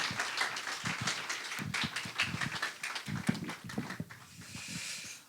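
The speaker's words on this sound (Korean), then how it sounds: "우리 최 목사님 나오실 때 열렬한 환영의 박수 한번 주시면 좋겠습니다" A church congregation at a joint Friday worship service claps to welcome a pastor to the pulpit, scattered and uneven applause with irregular bursts of hand claps at moderate distance, fading toward the end.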